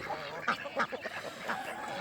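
Ducks on a farm quacking in a few short bursts over faint outdoor background noise, with no one talking.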